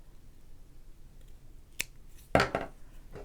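Scissors trim off extra yarn on a small yarn octopus craft: a quiet click followed by a sharper, louder snip close by, against a near-silent background.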